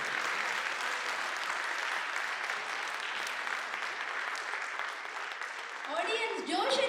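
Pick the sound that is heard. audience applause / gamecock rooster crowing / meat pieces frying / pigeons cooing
audience applause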